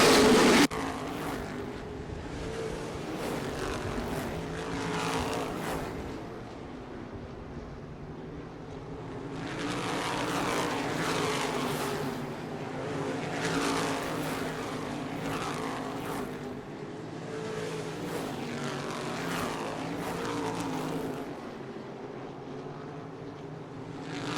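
Race cars tearing around the Kalamazoo Speedway short track, engine roars swelling and fading in repeated waves as the pack passes, loud and continuous with layered motor tones.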